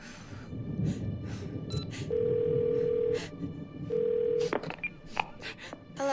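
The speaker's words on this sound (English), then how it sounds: "let's grab the phone, call Bumblebee" In the game Twelve Minutes, a phone is dialed with a burst of keypad beeps, then two long, steady ringback tones sound over a low room hum, followed by more short beeps.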